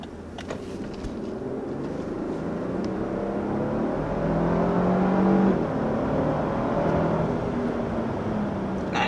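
A 2022 Lexus LX 600 accelerates, its engine note climbing steadily in pitch and loudness through the gears with a smooth whirring drone, heard from inside the cabin with no talking.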